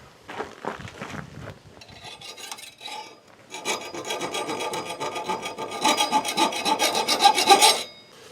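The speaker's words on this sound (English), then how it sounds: "Yeah, I want to use the grinder." An angle grinder cuts through a thick metal gear with a harsh, rasping grind, starting in short bursts and then running continuously, growing louder and brighter near the end before stopping abruptly.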